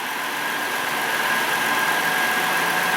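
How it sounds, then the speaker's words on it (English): Hyundai Sonata A/C compressor running with its magnetic clutch engaged, a loud, steady mechanical whir and hum under engine idle, close and continuous with no talking. "So right now the magnetic clutch is engaged on the compressor."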